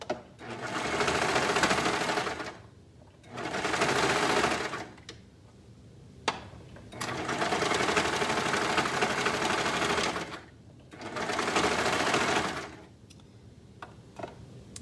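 A sewing machine stitching an overlap placket, the thickest part of the garment, in four long whirring runs separated by short pauses with small clicks.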